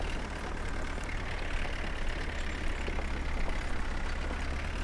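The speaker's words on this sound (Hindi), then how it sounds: "तो भाई ये भी देखो आराम से खींच रहा है ट्रैक्टर हमारा" A Mahindra 575 tractor pulling a 10 ft rotavator in Farming Simulator 19 gives a steady, droning engine hum at normal revs, constant and unvarying throughout with no talk.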